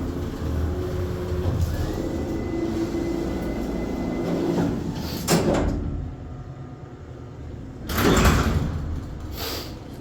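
An Otis hydraulic freight elevator runs with a steady low rumble and drone, broken by a couple of loud clanks and thumps partway through and again near the end, like doors or the car shifting.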